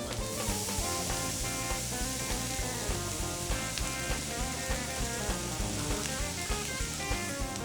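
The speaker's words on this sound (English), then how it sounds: "start by cooking off about a pound of bacon, which will likely render you somewhere in the neighborhood of 4 ounces of bacon fat" A pound of bacon frying in a pan, giving a steady dense sizzle and crackle with small pops throughout, moderately quiet and continuous.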